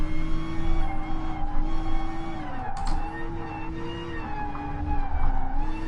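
A Gr.3 race car lapping Willow Springs in Gran Turismo Sport, its engine note rising and dipping as the driver works throttle and brakes, with a brief sharp tire or shift burst midway and no talking.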